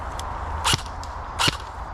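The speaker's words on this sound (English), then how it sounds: "I think gunfire over there." Two sharp airsoft gun shots at an outdoor game, spaced under a second apart over steady background noise.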